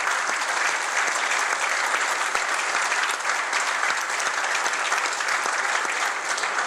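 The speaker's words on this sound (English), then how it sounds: "I'd like to just have a round of applause for the Marines here" A large crowd at a naval aviator winging ceremony gives a sustained round of applause for Marines, a thick, continuous roar of clapping at constant volume from start to finish.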